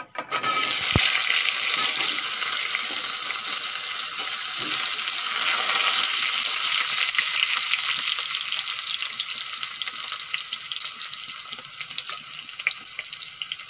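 Washed cut potatoes frying in a pan, a loud continuous close sizzle that holds steady and eases slightly toward the end.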